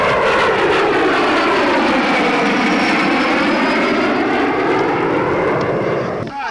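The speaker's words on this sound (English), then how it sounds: "what's next is the helicopter's coming out" A helicopter flying low overhead roars loudly and continuously, its broad rushing engine noise swelling and shifting in pitch as it passes close by.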